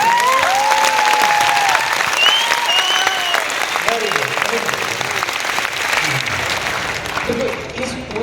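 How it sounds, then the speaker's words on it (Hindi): An audience at a speech event bursts into loud, sustained clapping that gradually thins out. A voice and some tonal sounds carry over the applause. "इसलिए एक बार हाथ ऊपर करके सब ताली बजा दो।"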